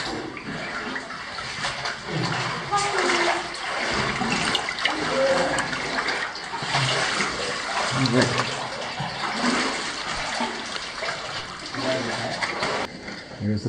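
Water rushes and splashes steadily inside Onesquethaw Cave, a close, continuous wash of flowing water while people talk over it.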